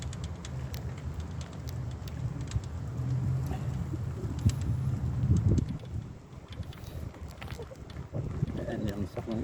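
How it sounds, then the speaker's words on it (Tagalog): Pigeons coo in low, soft repeated calls amid outdoor background noise and a light wind, with a person talking intermittently over them. "Yan yung mga ibon."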